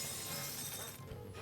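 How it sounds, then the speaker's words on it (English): In the video game Luigi's Mansion 2, a ghost's blue shield shatters in a loud, bright, crashing burst of breaking-glass noise that fills the clip and tails off quickly, alongside the game's sounds. "A nice shattering sound, and it's kind of intense for a shield for a greenie"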